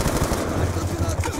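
Rapid automatic AK rifle fire in a Black Ops 2 campaign battle, dense loud bursts rattling continuously and close, with a voice faintly underneath.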